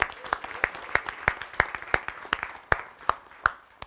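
A live studio audience claps, with sparse, separate hand claps in an uneven rhythm, each sharp and distinct against a quiet background.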